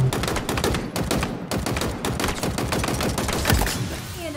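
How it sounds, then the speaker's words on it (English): Rapid bursts of automatic gunfire crackle continuously, dense and loud, with sharp repeated shots from Halo Infinite combat. "In a hail of gunfire."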